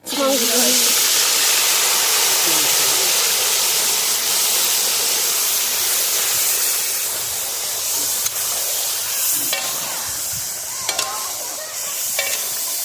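A large batch of chicken for biryani hitting hot oil at a home New Year picnic, a loud, dense sizzle and hiss that stays strong throughout, with a few clinks and faint background voices.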